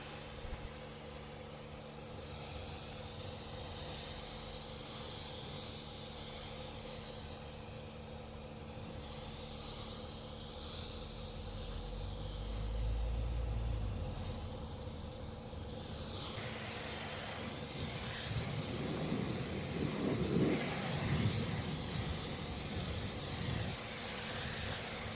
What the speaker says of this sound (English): Rinsing thoroughly to make sure you get rid of all the loose dirt and any excess snow foam off the vehicle